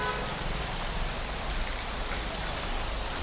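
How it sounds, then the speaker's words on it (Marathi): Heavy rain pours down outside in Sindhudurg during the monsoon, a loud, steady broadband hiss that stays dense and unbroken throughout with no voices. "बघा फुल जोरात पाऊस आहे."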